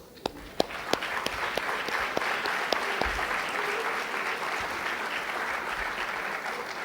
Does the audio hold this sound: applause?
yes